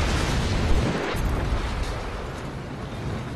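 A loud, sustained explosion rumbles through a stealth action game scene, a dense roar filling the space for several seconds with no talk over it.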